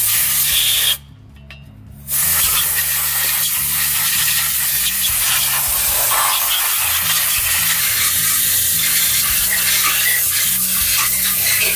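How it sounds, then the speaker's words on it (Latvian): A pneumatic spray gun loaded with white spirit blasts engine parts clean with a loud, steady hissing spray. The hiss drops out for about a second near the start, then resumes and continues unbroken. "Tad tādā pneumatiskajā pistolē ielēja vaidspritu iekšā un tik tīra."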